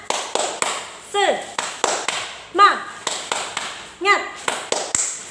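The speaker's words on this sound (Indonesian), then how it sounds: "Sebelum belajar kita tes semangatnya dulu. Tepuk semangat." Classroom spirit clap (tepuk semangat) by a group of pupils, sharp rhythmic hand claps in quick patterned bursts, with voices chanting along in between.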